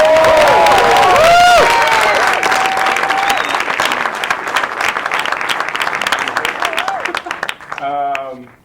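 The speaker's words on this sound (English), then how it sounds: "Give him a big round of applause." Audience at a film Q&A applauding the director, with cheering and whistles over loud sustained clapping that thins out gradually, and a voice begins speaking just as it ends.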